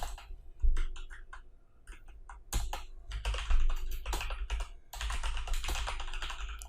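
Code typed on a computer keyboard in quick bursts of close, crisp key clicks, separated by brief pauses, with no talking.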